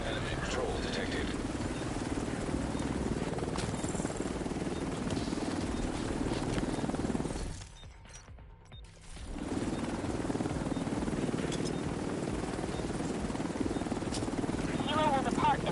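Helicopter in a video game, Rainbow Six Siege, with a steady rotor drone running under game voice lines, dropping away briefly midway before returning at full strength.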